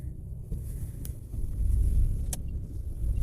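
Inside a moving car heading out to a village, a low, steady road rumble and engine hum swells slightly as it drives, with a couple of faint clicks inside the cabin.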